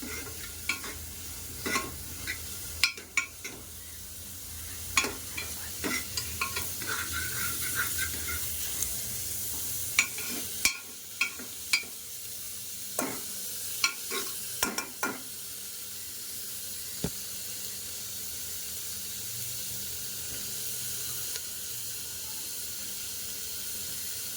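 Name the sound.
sautéing ingredients in a pan for sambar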